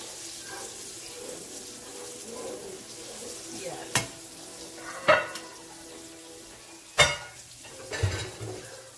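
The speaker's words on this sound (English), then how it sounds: "Keep moving these jalapenos around." Jalapeno pieces frying in a pan, a steady close sizzle with four sharp utensil clacks against the pan as they are stirred around, no voices.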